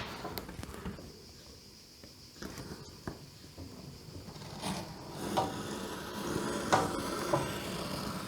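A blade cuts through leather for a knife sheath, giving faint, close rasping and scraping strokes with scattered light knocks. The cutting grows busier and slightly louder toward the end.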